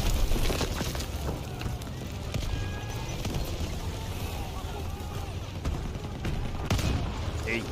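Rapid rifle and machine gun fire crackles near and far in Call of Duty WW2 in a fight at a bridge near a tank, with scattered sharp shots over a busy battlefield rumble while someone talks now and then.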